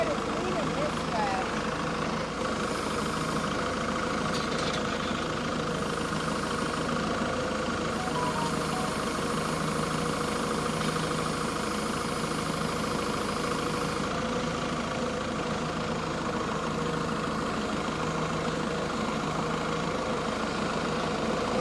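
A hydrostatic tractor engine idles steadily at a homestead cattle setup, a continuous low rumble holding even for over twenty seconds with faint background activity.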